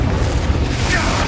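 A deep booming blast from the Confringo fire spell in Hogwarts Legacy, loud and rumbling through the whole short moment, heavy in the low end with dense game audio around it.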